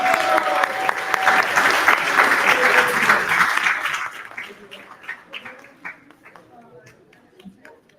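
An audience at a community cinema event applauds a music group, loud crowd clapping with some cheers for about four seconds, then thinning to scattered claps as a voice begins speaking.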